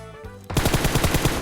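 Loud, rapid bursts of automatic gunfire from a suppressed Beryl rifle in PUBG Mobile erupt after a brief quieter moment and continue in a fast, steady rhythm.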